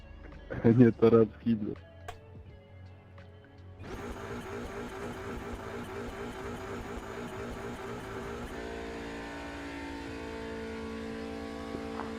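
Simulated race car engine from the iRacing game, an Audi TCR touring car at VIR, droning steadily at high revs with a sustained harmonic whine after a few brief sharp bursts at the start.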